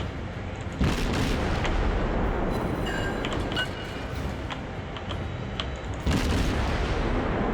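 Warship main battery guns fire in World of Warships, two heavy booming salvos about five seconds apart over a loud continuous rumble of the sea and engines, with faint ticking interface sounds and no talk.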